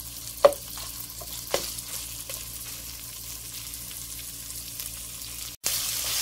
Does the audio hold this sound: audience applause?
no